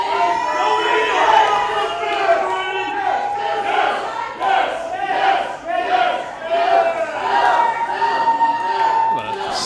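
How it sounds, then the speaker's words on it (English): Wrestling crowd at an IZW Adrenaline independent show giving a split reaction, a sustained roar of mixed cheers and chants for two rival wrestlers rising and falling throughout, loud and dense with no clear single voice. "What a split reaction from the crowd."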